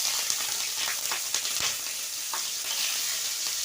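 Fresh green chilies dropped into hot oil in a Bengali home kitchen, a loud close hiss of sizzling frying with a few sharp pops and spatters, continuous for several seconds with no talking.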